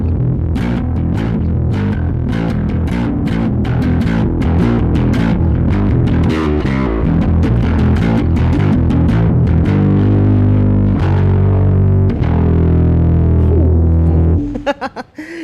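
A bass guitar played through a Zoom B1 Four multi-effects pedal on a tube overdrive setting gives a loud, gritty run of plucked notes, then sustained distorted tones that cut off abruptly near the end, with no talk.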